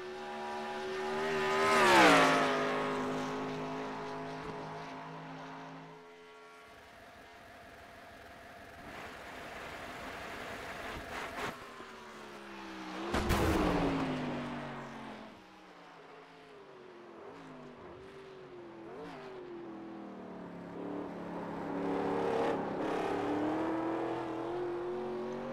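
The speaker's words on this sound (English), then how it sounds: "here we are at Bathurst in the Legends car" A Legends race car laps the Bathurst circuit, its engine droning and revving in rising and falling waves with gear changes, loud at first, then easing and building again. No talk over the engine.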